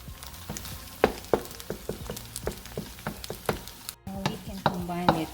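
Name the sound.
Pad Thai cooking in a pan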